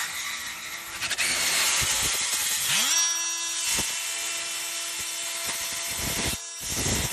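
A power tool fitted with a Milwaukee carbide blade bores lock holes for a Locinox Fortylock gate lock, a loud continuous whine that starts, dips as the motor spools up around the three-second mark, then runs steadily with brief cuts in and out.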